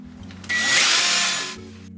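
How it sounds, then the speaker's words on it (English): A power drill bores a half-inch hole through the metal wall of a bus being converted into a tiny house, a loud, steady high-pitched grind lasting about a second over a low motor hum. "Now we're going to drill our holes."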